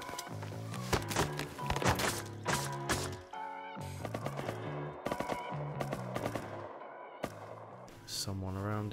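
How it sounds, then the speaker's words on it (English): Gunfire in the survival game Rust, sharp repeated shots in irregular bursts throughout, mixed with footsteps and other in-game sounds. "Someone around here shooting."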